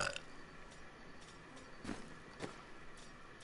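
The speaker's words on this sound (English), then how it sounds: "She burped." A female merchant character in a video game lets out a quiet, short burp over a faint background hum, with a second soft gurgle right after.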